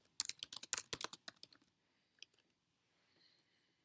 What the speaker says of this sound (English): You will start by typing in your question under the question text box.